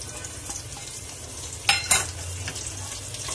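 Chopped onion added to garlic frying in a pan for khichdi, a steady low sizzle with two sharp clinks of a stirring spoon against the pan midway, close and fairly quiet.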